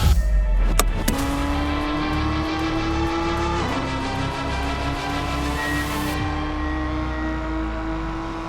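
Several race cars in the iRacing sim pull away at a green-flag start, engines droning loudly and steadily together with rising harmonic whines and a shift partway through, continuous with no talk.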